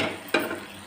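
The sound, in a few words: roasted vermicelli added to ghee in a pot, sizzling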